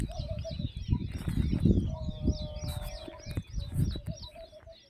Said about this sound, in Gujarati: મસ્ત પક્ષીઓ કલરવ કરે છે.